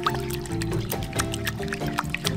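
Warm water poured into a bowl with yeast, a close gurgling, bubbling pour with irregular sloshes and drips throughout.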